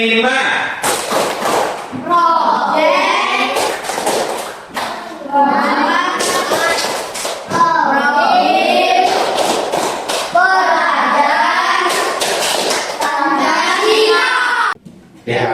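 A classroom of children performs the Tepuk P5 clap routine, with sharp rhythmic claps and thumps punctuating loud group chanting in repeated bursts.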